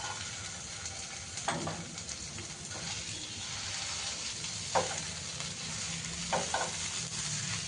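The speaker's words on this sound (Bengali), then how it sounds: "এবার আমি সেদ্ধ করা ডালটা দিয়ে দেবো।" Boiled lentils are tipped into a sizzling pan of fried spices and stirred for dal with prawns, giving a steady fry hiss broken by a few sharp scraping stirs.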